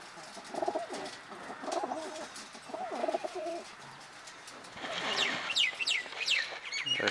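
Madino breed pigeons coo in soft, repeated throaty phrases close by, with faint chirps and rustling around them and a brighter burst of small bird calls near the end.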